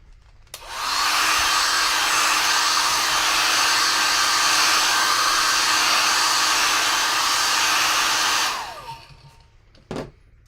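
A hair dryer blows on an ink sketch, switching on with a click and running loud and steady for about eight seconds before winding down, followed by a sharp knock.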